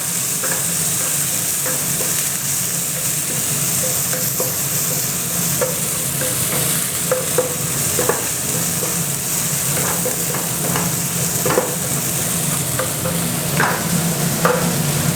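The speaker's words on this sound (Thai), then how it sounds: "เอาเครื่อง ที่เราโขลกเอาไว้นะครับ เครื่องผัดชาเนี่ยลงไปผัด จนหอมเลยนะครับ" A pounded chili-herb paste stir-fries in a wok for a spicy fish-ball dish, making a loud, continuous sizzle and hiss with frequent scraping strokes of the spatula all the way through.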